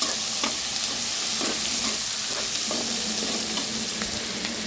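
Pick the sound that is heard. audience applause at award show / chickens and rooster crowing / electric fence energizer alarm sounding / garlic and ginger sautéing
garlic and ginger sautéing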